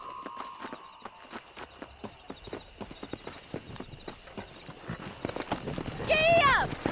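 Horse hooves clop in a steady, quick rhythm while riding in the video game Red Dead Redemption, with moderately loud hoofbeats throughout and a brief high, wavering call near the end.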